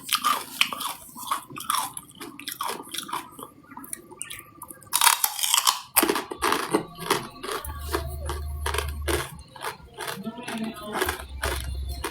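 Crunchy Thai chili paste with pork cracklings being chewed close to the mic, with a run of crisp, rapid crunches, a brief louder burst midway, then steady chewing over a low hum.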